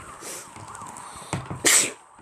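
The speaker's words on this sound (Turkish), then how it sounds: "Özür dilerim arkadaşlar. Hapşırdım." A single sharp sneeze bursts out near the mic after a brief catch of breath, loud against a quiet background hum.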